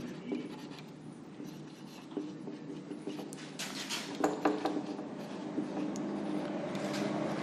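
Pen scratching across a board during a lesson, with uneven strokes and squeaks that grow busier midway, over a low room hum, close and moderately loud, with no speech.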